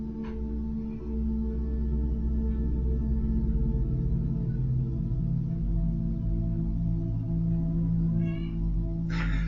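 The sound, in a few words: cat meowing in the video game Kathy Rain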